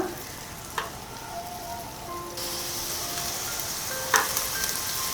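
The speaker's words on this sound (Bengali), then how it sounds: "এরপরে দিয়ে দিচ্ছি কিমা করে কাটা আদা কুচি আর পেঁয়াজ কুচি। দুটো জিনিসকেই বেশ ভালো করে ভেজে নিচ্ছি" Minced ginger and chopped onion fry in a pan, a soft continuous sizzle that grows louder midway, with a few utensil clinks and scrapes.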